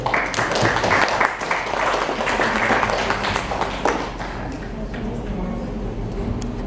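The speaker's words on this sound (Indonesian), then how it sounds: "Tepuk tangan untuk beliau." An audience at a children's poetry book discussion at a university in Purwokerto breaks into dense, lively applause that gradually thins out over several seconds, with a voice speaking over the clapping.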